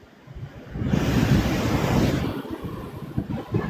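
Floodwater rushes through Kingston during Hurricane Melissa, a loud swelling wash with gusting wind buffeting the microphone, rising and holding as a continuous roar.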